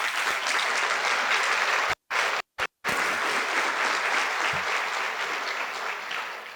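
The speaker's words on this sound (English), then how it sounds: "So if we could give him another round of applause." An audience at a fire chief's retirement ceremony applauds, a dense, sustained round of clapping filling the room, broken by a few abrupt short cuts, then carrying on and slowly easing.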